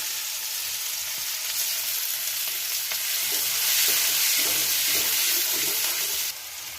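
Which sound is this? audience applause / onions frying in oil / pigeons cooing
onions frying in oil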